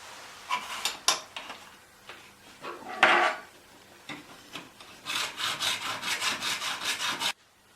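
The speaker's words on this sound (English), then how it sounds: "cut each end to 45 degrees using the saw and mitre block" A hand saw cuts glazing mitre bead to 45 degrees in a mitre block, giving a few uneven strokes and a knock, then a fast run of about a dozen rhythmic rasping strokes, close and clear, with no voices.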